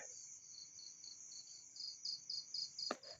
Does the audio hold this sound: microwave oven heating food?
no